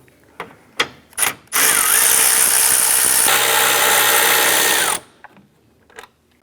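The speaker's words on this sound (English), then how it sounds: "We're going to go ahead and remove our 4 10mm bolts holding both fans" A power ratchet or impact tool backs out 10mm bolts holding the radiator cooling fans on a 2004-2008 Acura TL, with a few short clicks, then one loud, steady whirring burst of about three seconds, then light clinks.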